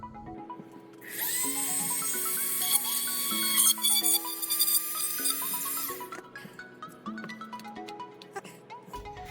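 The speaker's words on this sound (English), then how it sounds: "I'm going to drill out the hole here." A high-pitched power drill whines at speed for several seconds drilling a hole in a model build, starting abruptly and cutting off, over faint background music.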